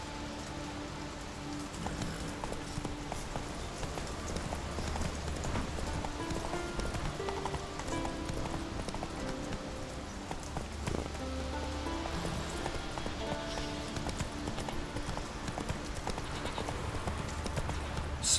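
A horse's hooves clip-clop at a steady walking pace in the video game The Witcher 3, with rain pattering all around and a faint whinny now and then.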